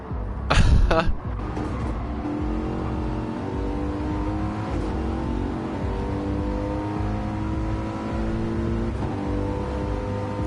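Race cars at the Red Bull Ring in a racing video game, including a McLaren, wet conditions: loud continuous engine drone with shifting revs and a sharp burst near the start, steady throughout.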